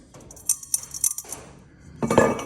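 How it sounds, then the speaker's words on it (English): Metallic crinkling and clicking from a thin tin bowl being squeezed in a scrap metal shop, a few sharp crackles early on, then a louder crunching burst near the end. "I love showing examples of what tin sounds like"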